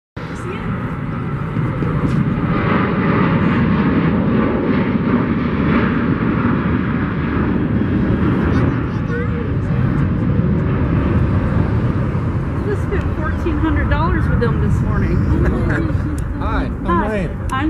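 An airplane at Raleigh-Durham airport produces a loud, steady jet roar that fills the scene throughout, while people talk nearby over the engine noise.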